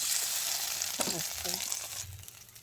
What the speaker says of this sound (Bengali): আস্ত গরম মশলা দিয়ে ভালোভাবে ভেজে দিয়ে